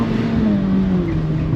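A Honda Fit engine pulls at full throttle on an autocross course, a steady close-up drone rising slightly in pitch, loud and continuous with no talk over it.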